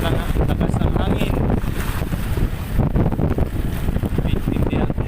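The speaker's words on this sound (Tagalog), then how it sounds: "Lakas ng hangin." Strong wind buffets the microphone continuously over rough sea with big waves, a loud, dense roar of rushing air and surging water throughout.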